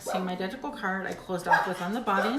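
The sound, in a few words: dogs barking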